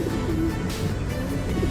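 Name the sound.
homer pigeon cooing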